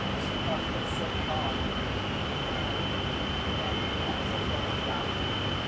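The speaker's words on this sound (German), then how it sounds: "Ach, gerade wurde noch mal die Klimaanlage aufgedreht." Air conditioning aboard a Frecciarossa 1000 high-speed train, a constant, loud broadband whoosh with a steady whine, unchanging for the whole stretch.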